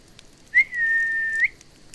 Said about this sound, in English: Can you guys hear me whistle?